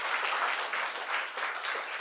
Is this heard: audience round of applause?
yes